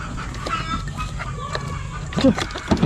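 Chickens clucking nearby, a few short clucks and squawks over faint background noise and rustling.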